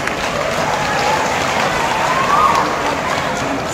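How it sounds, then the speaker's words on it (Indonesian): An audience at an indoor event gives a sustained round of dense, even applause that stays loud from start to finish. "Tepuk tangan khusus untuk media."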